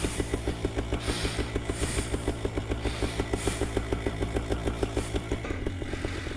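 A light aircraft's propeller engine runs close by with a steady, rapid chugging pulse and a rattling idle. The tone stays even throughout, with no voices heard.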